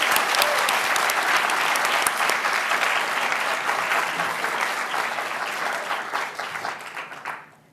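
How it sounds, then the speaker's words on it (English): An audience at an evening reading event claps steadily and warmly, a dense sustained round of applause that holds strong before gradually thinning and fading out at the end. "Can we have another round of applause for all the girls who have read so far tonight?"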